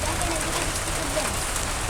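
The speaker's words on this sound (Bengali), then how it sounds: "কিন্তু দেখেন এর ভিতরে বৃষ্টি চলে আইছে" Steady rain falls outdoors at a village cooking site where beef has been cooked, a dense continuous hiss filling the short stretch with a voice faintly underneath.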